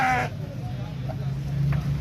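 At the Gujranwala goat market, a goat lets out one short, close bleat at the very start, followed by a low, steady market hum with faint noises in the background.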